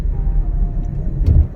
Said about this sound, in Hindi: ट्रैफिक जो है वो बहुत ज़्यादा है।